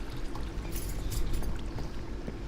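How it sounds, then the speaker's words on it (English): Bucket filled with water in Minecraft with the Agrarian Skies modpack: a brief splashing pour over a dense background wash, no voices. "I'm going to steal a bucket of water from up here"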